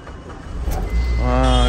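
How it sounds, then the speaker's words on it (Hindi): A car with a newly replaced starter cranks briefly, then catches and settles into a loud, steady engine drone close by, with a voice talking over the start. "तो भाई अपनी गाड़ी अब स्टार्ट करके देखते हैं।"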